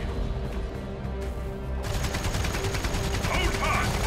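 Rapid bursts of automatic gunfire from Space Marine squads in Warhammer 40,000: Dawn of War, a dense crackling fusillade that thickens midway, mixed under shouted battle voices and game effects.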